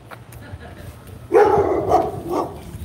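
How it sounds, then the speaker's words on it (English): A dog barks a few times outdoors along a street, the short barks loud and close, with faint background noise and a person nearby. "Nice doggy."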